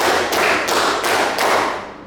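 A group of people clapping hands together in a classroom, four or five loud, close claps in a steady rhythm, with no talk over them.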